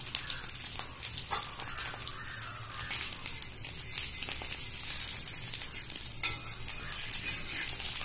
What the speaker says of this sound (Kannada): ದೋಸೆ ಹಾಕ್ಕೊಳ್ಳೋಣ. ಇದಕ್ಕೆ ನಾನು ಆಯಿಲ್ ಹಾಕ್ತಾ ಇದ್ದೀನಿ.